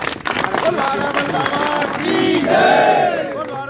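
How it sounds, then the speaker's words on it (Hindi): Loud applause and crowd noise at a police press event announcing a solved double murder case, with clapping mixed with shouting voices and raised speech rising toward the end. "एक बार जोरदार तालियां सभी को"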